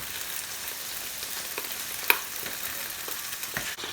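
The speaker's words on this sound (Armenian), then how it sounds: "ստեղ միսը տապակվում է, ստեղ սմբուկներն են տապակվում" Meat and eggplant frying together in a pan, a quiet steady sizzle with scattered pops and one sharp clink partway through, no voices.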